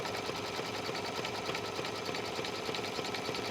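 A home embroidery sewing machine stitching a decorative outline around a satin monogram on a journal cover, with a fast, even, continuous needle chatter at close range and no talk.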